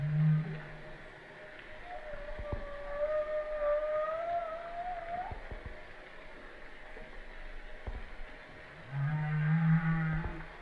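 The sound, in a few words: whale vocalization recording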